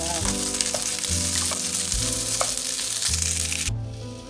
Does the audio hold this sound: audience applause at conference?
no